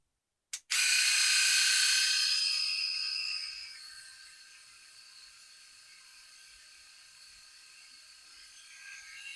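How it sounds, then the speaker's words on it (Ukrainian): An Enchen Blackstone Plus cordless electric shaver and trimmer clicks on and then runs with a steady high-pitched whirring buzz. The buzz is loud for the first few seconds, then settles to a quieter, even hum that continues to the end. "І увімкнути бритву."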